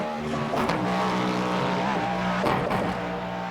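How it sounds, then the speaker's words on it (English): Cadillac GTP race car in the iRacing simulator, its engine droning loudly with two quick downshift blips through a chicane, steady and close throughout. "it's shifting down in the chicane"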